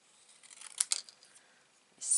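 Scissors snip through card in a few short, crisp cuts close by, quiet and papery, with a faint rustle of card handling at the end.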